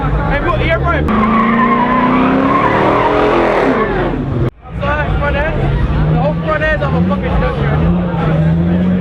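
Cars doing burnouts and two-step launches at a night car meet, loud screeching tyre squeal and revving engines with a brief cut midway, a crowd chattering throughout.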